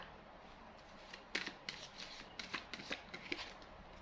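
Tarot cards shuffled and drawn, giving faint papery riffles and a scatter of soft, brief slaps and flicks spread across the stretch over a quiet background, with no voices.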